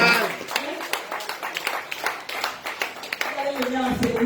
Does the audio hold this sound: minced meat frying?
no